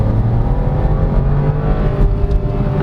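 A 2022 Chevrolet Trailblazer LT engine revs steadily while held in first gear in manual mode, a loud, continuous droning hum with a sustained low tone and no speech.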